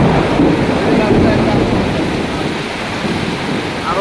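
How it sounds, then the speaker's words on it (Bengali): Heavy rain and storm pour down in a tree-filled area of Pirujali Union, Gazipur, a dense, loud, unbroken roar throughout. "যে পরিমাণে পানি পড়তেছে তাতে মনে হচ্ছে আজকে বর্ষা শুরু হয়ে যাবে প্রচণ্ড"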